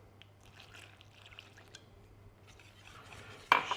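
Chickpea flour and water being stirred into a batter in a bowl, giving a soft, continuous scraping and sloshing with a low steady hum beneath and a sharper clatter at the very end.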